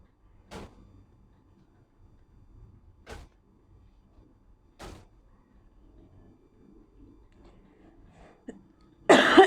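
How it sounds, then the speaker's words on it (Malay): Three short, separate coughs spaced a couple of seconds apart over near silence, followed at the end by a sudden louder burst of noise. "Banyak kali aku batuk."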